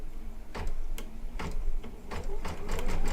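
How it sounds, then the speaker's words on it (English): An embroidery machine stitches out a design with a steady, rhythmic clatter of needle strokes and sharp ticks over a low mechanical hum, close by and with no talking. "I'm watching as it's stitching out now"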